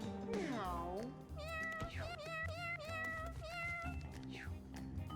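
A video-game cat in Mewgenics lets out a string of drawn-out, sliding meows, several in quick succession, up front over steady game music with some vocal sound.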